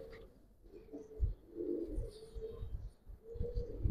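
Giribaz pigeons cooing softly in a loft, a few low throaty coos rising and falling over several seconds amid light background rustle, close and moderately loud.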